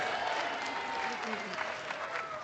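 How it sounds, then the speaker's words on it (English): Audience applause at a youth workers' conference opening keynote in Aotearoa, moderately loud clapping with crowd noise and a voice speaking over it. "Let's have a round of applause."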